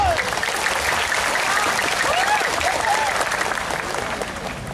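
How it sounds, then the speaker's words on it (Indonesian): Sustained, loud applause fills a hall during a child preacher's speech, with many hands clapping in a thick, steady roar that fades slightly near the end, and faint crowd voices in the background. "Tepuk tangan sekali lagi buat Muhammadiyah."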